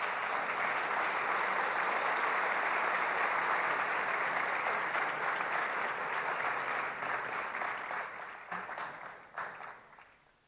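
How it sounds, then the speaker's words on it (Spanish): Loud, dense applause from an audience at a Guatemalan business council presidential candidates' debate, sustained for about eight seconds before thinning into scattered claps and fading out. "les ruego una vez más un fuerte aplauso"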